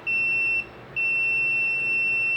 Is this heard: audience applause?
no